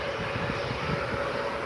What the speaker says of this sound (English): We've got a Jet2 A321